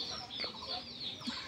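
Native chickens on a large poultry farm make faint, scattered clucks and murmurs over a soft, busy background, briefly and at a distance.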